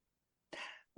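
A single sharp sneeze bursts out partway through, loud and close, with a brief vocal sound following right after in an otherwise quiet indoor setting.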